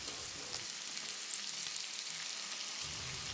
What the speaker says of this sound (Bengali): এক চামচ চিলি ফ্লেক্স দিয়ে ভেজে রাখা চিংড়ি মাছগুলো দিয়ে দেব।